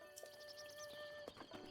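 Horse hooves clip-clopping in Zelda: Breath of the Wild, a few soft steps under a steady game music bed, with a brief whinny and chirpy game effects mixed in.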